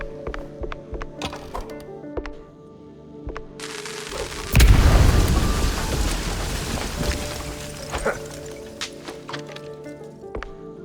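Firecrackers go off inside a wooden attic in the video game Mouse: P.I. for Hire: scattered sharp pops lead to a single heavy boom, followed by a long crackling, rumbling tail that slowly dies away.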